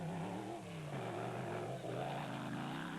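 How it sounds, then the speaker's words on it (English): A 6-litre Chevrolet V8 in an off-road race car roars loud and close, holding a steady, rumbling drone that swells slightly as it revs, with no pauses and no voices. "Even that 6-litre Chev engine sounds hungry."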